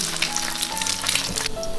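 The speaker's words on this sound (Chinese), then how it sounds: "打个鸡蛋进来，煎成荷包蛋。" Eggs sizzle and spit in plenty of hot oil in a frying pan, a bright crackling hiss heard close up for a brief moment.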